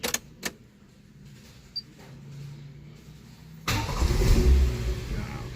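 A 1998 Toyota Starlet 1.3 SE-G with manual transmission starts from inside the cabin: a few faint clicks and a quiet pause, then the engine cranks and catches into a loud, rough idle.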